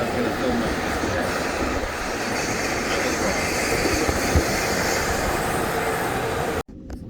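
A train runs on tracks near St. Moritz, a close, steady rumbling roar with rattling wheel noise that holds throughout before cutting off abruptly near the end.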